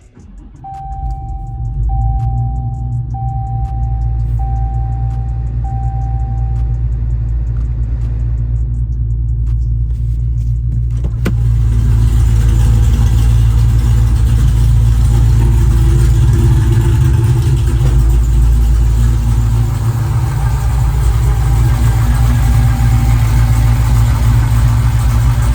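A repaired Hellephant supercharged engine runs with a deep, steady low rumble that swells louder partway through, then settles into a constant idle with no revving.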